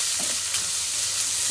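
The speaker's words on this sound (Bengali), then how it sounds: "পেঁয়াজ কিন্তু ভালো করে ভেজে দিচ্ছি।" Onions frying in oil with ginger garlic paste, a loud, continuous sizzle and hiss with some faint stirring, heard alone.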